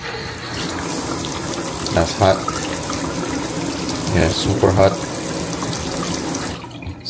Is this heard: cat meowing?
no